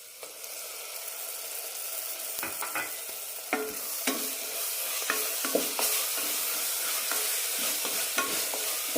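Beetroot curry masala sautéing in a pan, a continuous bright sizzle with scattered spoon scrapes and taps as the mixture is stirred, close and moderately quiet, no talking.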